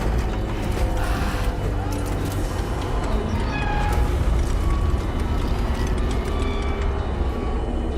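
A cat meows in the video game Death Stranding 2, heard alongside a steady drone of a ship's hull under pressure and mechanical creaks in a tense underwater scene.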